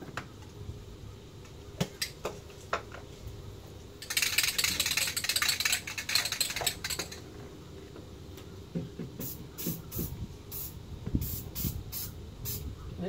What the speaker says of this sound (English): And then I'm going to put some spray on the ends of them.